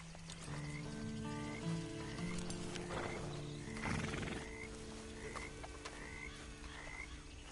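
A horse in the Western game Red Dead Redemption 2, with neighing, snorting and clopping hooves set among croaking frogs and ambient wild-animal sounds in an outdoor scene, moderately close.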